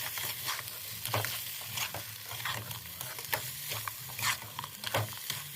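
Crab is sautéed in a pan with a spice masala, a soft, low sizzle broken by repeated scraping strokes of a spoon, fairly quiet and close, with no talking.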